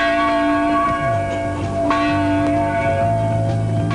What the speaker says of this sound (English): This is the chapel bell. They ring it all night long after every Georgia victory.